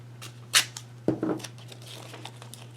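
Tape on a craft board is trimmed in a few quick, close tearing and cutting sounds over a faint steady hum.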